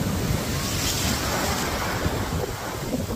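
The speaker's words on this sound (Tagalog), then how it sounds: "Lakas ng alon" Strong surf pounding the shore on Boracay after morning rain with high water, a steady loud roar of breaking waves and wind noise, no voices.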